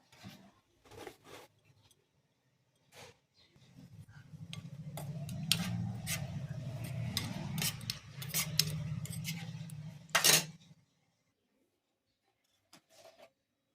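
Spoon stirring cornflour dissolved in a little water, a close, steady scraping and clicking against the bowl for several seconds, preceded and followed by a few isolated knocks.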